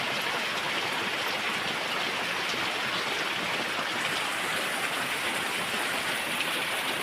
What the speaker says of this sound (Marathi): पाऊस पण पडायला लागले इकडे